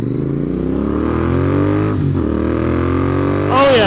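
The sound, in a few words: Royal Enfield motorcycle engine revving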